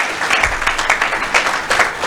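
A church or gathering audience applauds, a dense steady patter of many hands clapping at close range, loud and continuous with slight swells, no speech over it.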